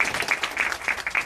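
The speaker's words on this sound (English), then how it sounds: "Let's give them a round of applause because they did an excellent job." At a small business forum, an audience gives a round of applause, a brief burst of many hands clapping close and fairly loud, with no talk over it.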